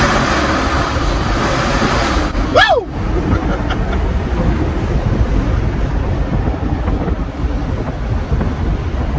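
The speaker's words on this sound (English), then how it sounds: "you can hear your exhaust so good up under here because of all of the echo and the sound resonance" A supercharged Durango's exhaust roars and echoes under a bridge as it pulls off, a loud continuous rumble with a rising sweep near the start, and someone lets out a short shout.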